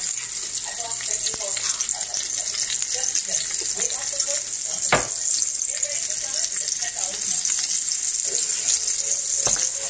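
Ahi tuna sears in a hot pan with a steady, bright sizzle that holds loud and close throughout, broken by a couple of sharp clicks and small clatters; a voice murmurs faintly underneath.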